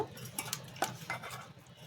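Pangas fish being mixed by hand with turmeric and spice paste for paturi in a bowl, with soft squelching and a few light clinks, close and quiet.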